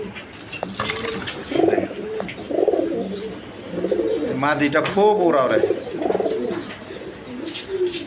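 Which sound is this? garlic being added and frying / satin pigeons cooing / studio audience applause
satin pigeons cooing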